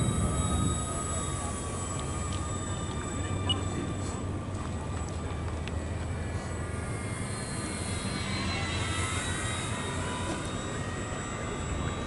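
A Tigercat model airplane drones steadily through a pass at a flying field, its engine a constant broad roar lasting the whole stretch, moderately near and without talk.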